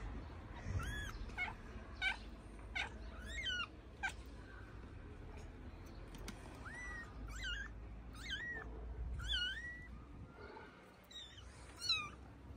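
A mother cat and her kittens meow repeatedly, high-pitched mews scattered throughout, fairly faint over a soft indoor background hiss.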